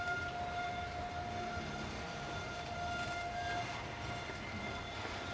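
A Norfolk Southern coal train at the Gallitzin tunnel in Pennsylvania, a steady low rumble of moving cars with a sustained horn tone held for a few seconds, heard from a distance and fairly faint.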